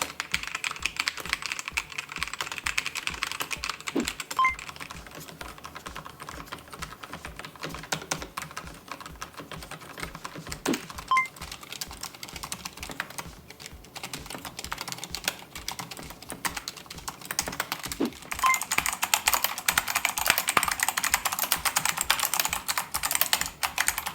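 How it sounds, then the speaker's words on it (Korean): Steady typing on a quiet K68 mechanical keyboard with lubricated low-noise Kailh linear switches, soft muted keystrokes in a continuous run with occasional louder thock sounds, close up and alone. "사용 중인 키보드와 타건음을 비교해 봤습니다"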